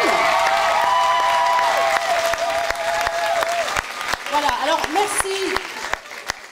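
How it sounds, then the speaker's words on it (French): An audience at a theatre show by a teen troupe applauds loudly and steadily, then the clapping thins into scattered claps while someone speaks briefly over it. "vous avez applaudi tellement fort que vous ne l'avez même pas entendu"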